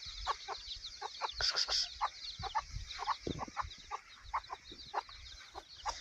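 Several chickens and chicks cluck in short, irregular bursts close by near a tractor, with a higher squawk partway through and a low rumble underneath.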